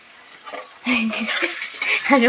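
A spoon stirring payesh, a sweet rice pudding, as it cooks in a pot at home, giving soft scraping clinks under a voice that talks throughout.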